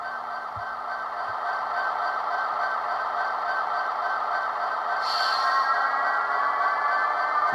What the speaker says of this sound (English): F4 is your dynamic brakes.